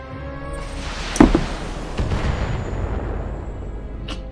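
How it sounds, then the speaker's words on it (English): BattleTech mech firing all weapons at an enemy vehicle: a sharp blast, then several booming impacts and a long rumbling decay, with a final crack, no talk. "We eliminate the vehicle. Firing. All weapons."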